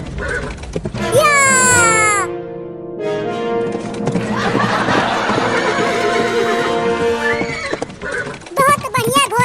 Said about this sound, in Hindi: बहुत बढ़िया घोड़ा, ऐसे ही दौड़ता रह।